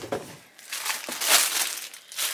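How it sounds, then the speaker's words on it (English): Crinkly packaging material rustles and crumples in irregular bursts as it is pulled from a box, close and fairly loud, with no talking. "Right, I'm going to go with the with the crinkle stuff first."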